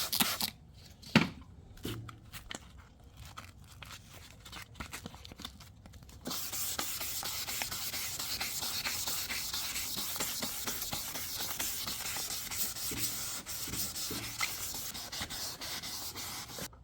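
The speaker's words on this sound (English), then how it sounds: "wipe it down after you're done doing the final sanding" 1000-grit sandpaper rubs back and forth on a plastic headlight lens, starting with scattered scrapes and handling noises, then turning into steady, continuous close-up sanding.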